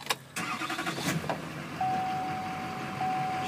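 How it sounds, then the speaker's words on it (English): A Chevy 3500 truck's engine cranks and catches with a loud start, then settles into a steady idle while a high, even dashboard chime sounds alongside. "I'll turn on the truck"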